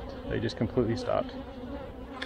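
Honey bees humming inside a calm, crowded hive during an inspection, a steady buzz close by under a person's spoken remarks.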